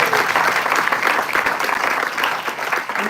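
An audience at an evening celebration gives a short, full round of applause, with many hands clapping densely and steadily at close range.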